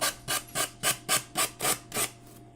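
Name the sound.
sanding by hand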